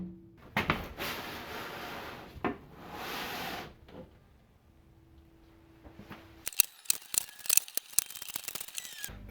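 Tape being pulled and torn for a fallen window regulator on a 2009-2013 Subaru Forester: long ripping tape pulls followed by a quick run of sharp close crackles and taps, no talk.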